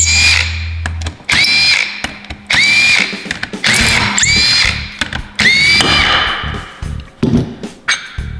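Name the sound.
power tool removing bolts from the cap, Ski-Doo 850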